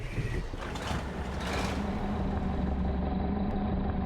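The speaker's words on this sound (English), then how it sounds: "now it sounds like a damn truck" Heavy truck engine in a video game, a steady low rumble that holds loud throughout, with brief hissy bursts early on and no talk over it.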